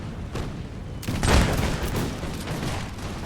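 Musket volleys crackle in a video game battle set in Napoleonic-era Europe, a dense fusillade of overlapping gunshots building to a loud burst and then continuing as sustained, rattling fire with no talk.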